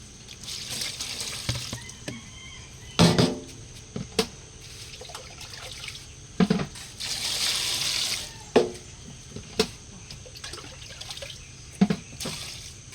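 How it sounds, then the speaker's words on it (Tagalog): Katuray flowers are rinsed under a running tap in a kitchen, with a steady trickle of water broken by several louder splashes and sloshing bursts as the blossoms are handled. "Ngayon, hugasan na po natin."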